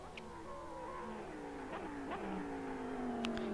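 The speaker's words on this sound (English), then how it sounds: "Really hear that engine scream as it comes flying past" GT3 race car at Spa flying past on a sim-racing livestream, its engine holding a high, strained note with pitch sweeping down through gear shifts, moderately loud and steady.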